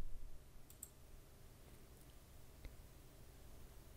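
A few faint mouse clicks on a computer running AutoCAD, as a settings reset is triggered, set against a low steady room hum.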